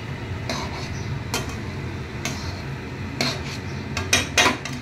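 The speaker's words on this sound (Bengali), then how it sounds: "মাঝখানে একবার নেড়ে দিই, না নাড়লে তলায় লেগেও যেতে পারে।" A spoon scrapes and clinks against a pan as grated cauliflower is stirred, a steady sizzling hiss underneath and a few louder metallic knocks toward the end, close up.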